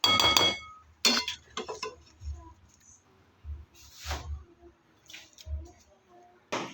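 Banana heart cooked in coconut milk with anchovies being poured into a bowl: scattered clinks of a utensil against the dish, soft wet squishes and low thumps, with brief talk at the start.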